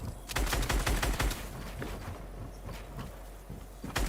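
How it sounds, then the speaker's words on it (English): Rapid bursts of Scar assault rifle fire in a Fortnite match, sharp cracking shots in quick clusters at the start and again at the end, with quieter building and scuffling noises between the bursts. "The Scar does shoot pretty fast."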